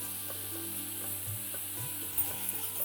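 Three finely chopped onions fry in hot oil while they are mixed, a soft steady sizzle under light scraping and a couple of stirring knocks near the end, close but fairly quiet.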